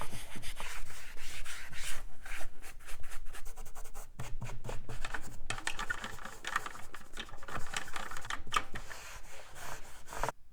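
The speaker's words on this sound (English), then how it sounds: "the magic eraser should make short work of these scuffs" A magic eraser rubs scuffs off the plastic slats of a Celebrity Tower, a close, scratchy back-and-forth scrubbing in quick uneven strokes with brief pauses between passes.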